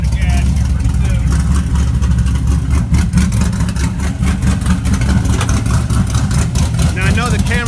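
A car engine on a painted Chevrolet Nova runs with the exhaust open, a loud, deep, steady rumble with a slight rev near the end, and someone talks over it.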